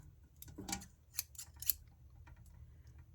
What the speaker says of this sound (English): Oh my gosh, more scissors.